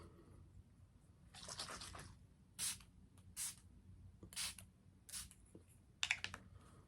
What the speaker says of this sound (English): This is just a lightweight photo finish setting spray by Smashbox.